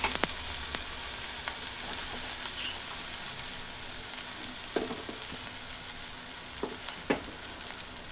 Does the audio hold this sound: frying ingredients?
yes